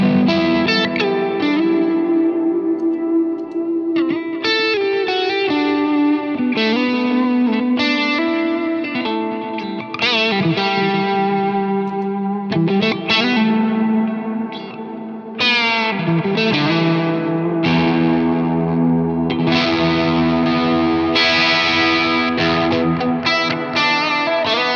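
An electric guitar is played through an intense, heavily distorted preset on a pedalboard, producing loud, saturated, chorus-tinged chords and melodic runs that continue steadily for about twenty-five seconds with no talking.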